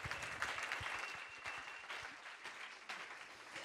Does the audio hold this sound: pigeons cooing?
no